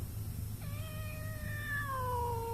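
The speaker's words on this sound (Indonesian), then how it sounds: "dengarlah bunyi kucing mengganas di kegelapan" A cat in the dark lets out a single long, drawn-out caterwaul that slides slowly downward in pitch over a low, steady hum.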